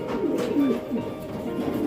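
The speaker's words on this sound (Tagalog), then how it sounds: "Yan mga kalapatids" Racing pigeons from a champion line-bred loft coo softly, a few low burbling calls close by over a steady background murmur.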